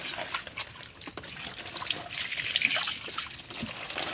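Toxic juice draining out of pressed wild yam, a close trickling and dribbling of liquid with intermittent splashes and wet squeezing sounds, heard without talk.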